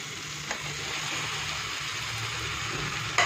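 Chopped banana stem hits hot oil in a pan for a village-style Bengali dish, giving a steady, close sizzle and frying hiss with a slight clatter near the start and end; no talking.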